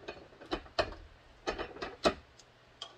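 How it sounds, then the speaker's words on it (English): A rivet is pressed into reinforced material in a press, giving a series of sharp mechanical clunks and ratcheting clicks at uneven intervals, close and fairly loud. "Throw it in the press."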